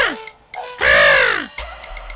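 A crow caws nearby in a few loud, harsh calls, with one long rasping caw in the middle and shorter cries around it.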